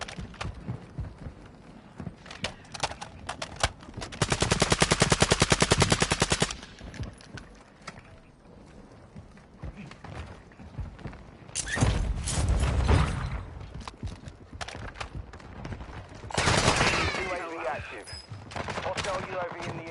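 Automatic gunfire and bursts of shots from a multiplayer shooter game, coming in dense loud volleys with quieter stretches between, mixed with game announcer lines and shouted player chatter.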